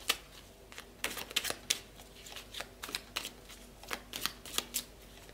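Tarot cards being shuffled close up, a quiet run of crisp flicks and soft riffles in irregular bursts, with no voices.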